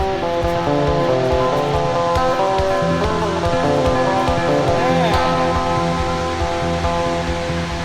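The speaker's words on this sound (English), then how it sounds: "I can hear the water though, it's been raining a lot, it sounds like it's going to be pretty wild" A waterfall swollen after heavy rain roars in a continuous, loud rushing wash of water, steady and close, with no voices over it.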